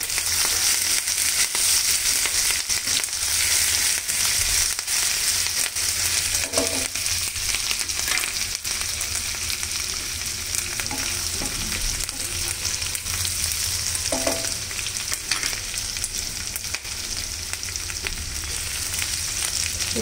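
Finely chopped ginger and green chilli fry in oil in a pan with a loud, dense, continuous sizzle, broken by occasional sharp crackles and a few stirring knocks, with nobody talking.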